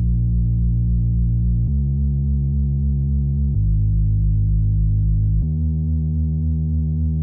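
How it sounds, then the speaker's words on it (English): A raised synth bass made in FL Studio for an EDM track, four long, steady low notes changing every couple of seconds, loud and smooth with no other instruments or voices. "For the bass I added a raised bass which sounds like this."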